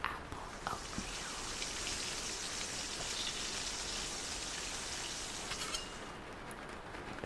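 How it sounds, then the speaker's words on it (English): Steady rain falls on surfaces in an autumn setting, a dense continuous patter with scattered louder drips, holding at an even level throughout with no voices. "you notice the rain starts easing up and sunlight is breaking through the clouds"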